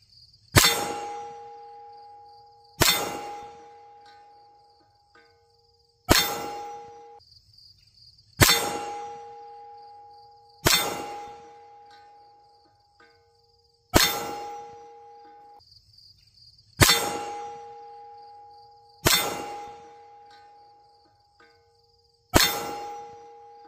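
Nine sharp metallic clangs from a Ruger Security 380 pistol's rounds striking steel targets 15 yards out, spaced a few seconds apart, each ringing briefly with a sustained tone before fading, with no talking.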